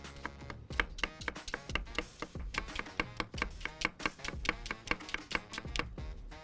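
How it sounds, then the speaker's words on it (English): A knife slices an onion thinly on a cutting board for a smashed burger, giving a quick, regular run of close, crisp chops with short pauses, no talking over it. "Same thing with the onion. And this you want to cut as thin as you can."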